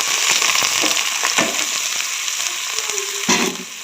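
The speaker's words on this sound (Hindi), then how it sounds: "तो अब ये प्याज काटे हुए इसी घी में फ्राई कर लेते हैं।" Chopped onions frying in ghee, a loud close crackling sizzle with a few sharp spits and stirring scrapes throughout.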